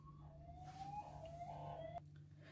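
An ambulance siren passes at a distance, one long rising wail sweeping upward over a low steady hum, faint and distant, then cutting off abruptly near the end.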